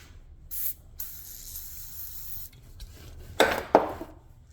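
Short hissing bursts of aerosol lubricant sprayed onto a rear disc brake nut on a Honda del Sol, two sharp close sprays near the end after a softer one earlier, with light metallic clinks between.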